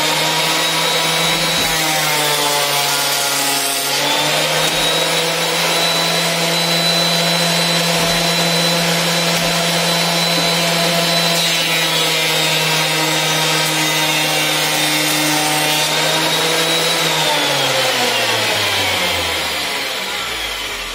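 A DeWalt DW733 thickness planer feeds a pine board, a loud steady motor whine with a cutting roar that holds for most of the stretch and then winds down near the end, with no talk.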